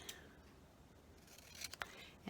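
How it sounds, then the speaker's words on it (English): Paper being trimmed with scissors for a creative journal page: a few quiet crisp snips near the end, preceded by faint rustling, close and alone. "Scissors."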